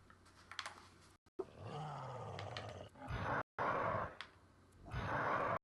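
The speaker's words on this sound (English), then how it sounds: "do we have a good roar sound?" A growling creature roar from the video game Project Spark, a long, low, wavering snarl rising and falling over several seconds, cut by brief gaps, with no talk over it.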